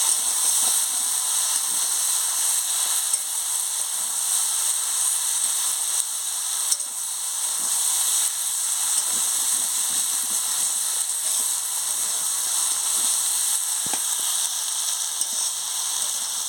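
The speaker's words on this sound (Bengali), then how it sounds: "খুলে নিয়ে ভালো করে আনাজগুলোকে নাড়াচ্ছি।" Khesari greens stirred as they fry in oil in an open pan, a steady close sizzle and hiss running unbroken throughout with faint scraping ticks of the spoon.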